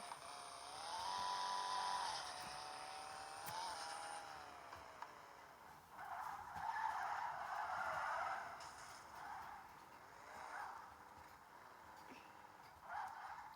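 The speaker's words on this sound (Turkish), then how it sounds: "Drift yaparak para kazanıyoruz arkadaşlar." Engine whine and tyre squeal from a car drifting in the Car Simulator 2 game, a faint rising and falling tone with bursts of screeching skid, kept low throughout.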